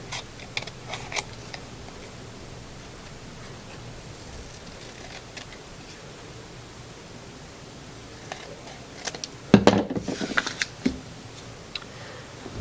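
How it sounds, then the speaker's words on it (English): Quiet, sparse snips and crisp cuts of scissors working through paper, with a brief cluster of louder crinkly cutting sounds toward the end. "So I'm cutting around the triangle."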